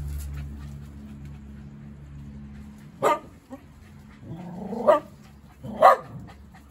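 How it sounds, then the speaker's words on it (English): Several dogs barking excitedly outdoors, three loud separate bursts of barks and yips spaced a second or so apart after a low rumbling start, fairly close and alone without talk. "you can hear the dogs are going bananas"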